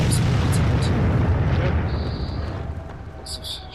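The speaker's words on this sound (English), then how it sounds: "Lots of shots coming in from various directions" Dense, loud rumbling battle noise from World of Tanks with booming shots and explosions coming in from several directions, heavy low rumble fading slightly over the span, with a few sharp high crackles near the end.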